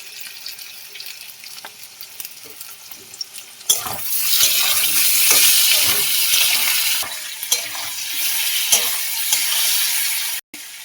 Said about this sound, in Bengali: টমেটোটা ওর মধ্যে দিয়ে আলুর সাথে ভাজা করে নেব।